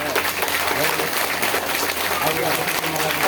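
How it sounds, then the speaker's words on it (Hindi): Audience clapping at a Shrimad Bhagavat katha telling of the Krishna–Rukmini wedding, a continuous, even wash of many hands, moderately soft and steady throughout. "ताली का आवाज दीजिए।"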